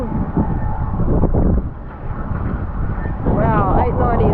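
Wind buffeting the microphone while downwind foiling on a Code Foils 890X hydrofoil board over open-water swell, a steady close roar with rushing water beneath and a short voice near the end.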